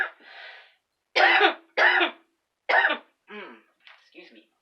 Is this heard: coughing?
yes